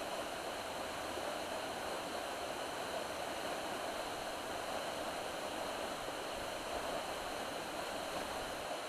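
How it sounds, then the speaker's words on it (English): Waterfall in the Blue Mountains dropping a clear 15 metres over broad, smooth rock, a steady, dense rushing roar of falling water that holds even and unbroken throughout with no voices. "the waterfalls are clear 50 feet, 15 metres, and a solid mass of broad, smooth rock"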